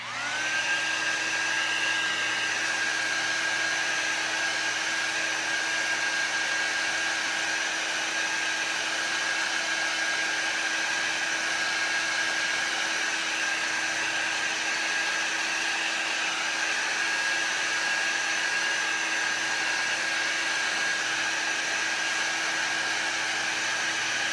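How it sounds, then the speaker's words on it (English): A heat gun blows steadily over chalk paste on a window, a constant close airy roar with a high whine that runs unbroken for the whole stretch. "I'm just gonna hit the hearts with my heat gun really quick."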